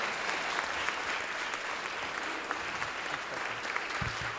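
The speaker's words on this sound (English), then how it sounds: "Big round of applause, Mr. Mike Major." After a music-mixing masterclass on rock drums, an audience applauds in a steady, dense wash of clapping that holds at an even level throughout.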